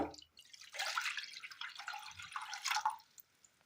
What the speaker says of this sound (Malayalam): അടുപ്പത്തൊരു ചട്ടി വെച്ച് കൊടുത്തതിന് ശേഷം അതിലേക്ക് ഒരൽപ്പം വെള്ളം ഒഴിച്ചു കൊടുക്കാം